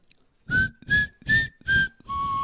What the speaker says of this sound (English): whistle us in